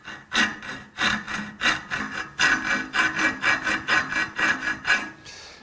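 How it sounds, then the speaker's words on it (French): A hand file rasps across a chrome steel tube to cut a flat, steady back-and-forth strokes repeating about twice a second, close and fairly loud with no talk. "Et ce plat, je le fais à la lime"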